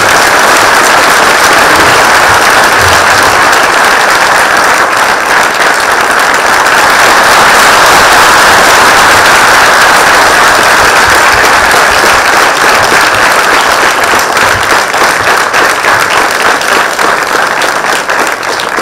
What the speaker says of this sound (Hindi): एक बार जोरदार हम तालियों से स्वागत करते हैं।